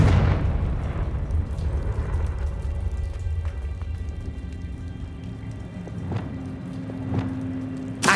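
A Confringo blasting curse exploding in Hogwarts Legacy: a rumbling blast that slowly decays into a crackling, rain-like patter of debris and low roar, with small sharp bursts scattered throughout.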